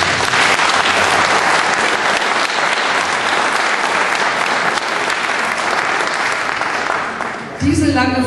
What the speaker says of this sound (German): Ich denke, das klatschen wir einfach mal.